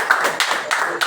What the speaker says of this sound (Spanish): Un aplauso a la palabra.